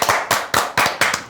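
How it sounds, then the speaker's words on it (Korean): A few people in a football talk-show studio clapping on request, five or so crisp separate bursts of hand claps in quick succession, close and loud, with no talk over them. "박수 좀 쳐주세요"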